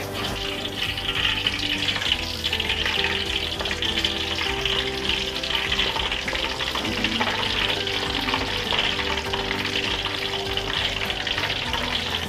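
Taro fritters (bakwan keladi) frying in hot oil, a steady, dense sizzle that carries on without pause at close range, with faint kitchen clatter and no speech over it.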